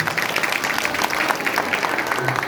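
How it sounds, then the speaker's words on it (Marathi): Men in a kirtan gathering clap their hands together, a dense, steady patter of many palms close by, filling the short stretch without talk. "पुरुष मंडळी टाळ्या वाजवायला,"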